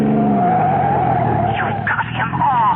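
Car tires screech in a long, loud skid as a car is forced off the road in an old-time CBS radio mystery drama, with a roaring engine under the squeal throughout.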